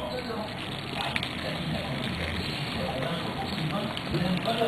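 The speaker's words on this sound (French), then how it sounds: "Donc je verse de l'eau bouillante dessus et je vais les laisser ramollir gentiment." Boiling water pours over wheat noodles in a steady, continuous splashing gush that fills the kitchen, with a brief rise in loudness near the end.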